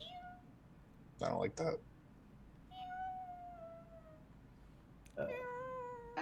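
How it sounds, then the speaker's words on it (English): Thin, kitten-like meows with an echoing, cavernous quality drift in, one drawn-out cry and then another rising call, with short bursts of people talking in between. "It sounds like a cat, like a kitten."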